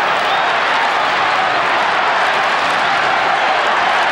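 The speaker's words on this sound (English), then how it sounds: "The Bomber crowd in full voice" Essendon Bombers football crowd roaring in a stadium during a 1991 match against West Coast, a dense, loud and continuous wash of cheering voices that holds steady throughout with no break.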